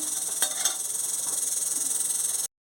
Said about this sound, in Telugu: ఆయిల్ హీట్ ఎక్కింది ఇప్పుడు పోపు దినుసులు వేసుకోవాలి